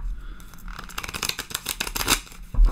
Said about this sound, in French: Je vais couper pour mélanger façon poker sans fracasser mes cartes